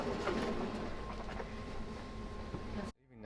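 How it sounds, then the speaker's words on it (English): Stockholm subway train riding along, a steady rumbling broadband noise with a faint tonal hum and scattered clicks, dropping off abruptly near the end. "Now we're on this subway"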